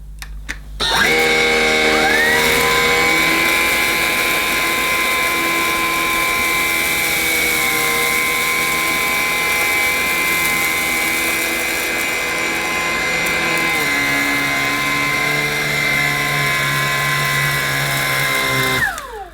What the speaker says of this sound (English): So it'll be interesting to see how well the Lupe Pure Cordless copes with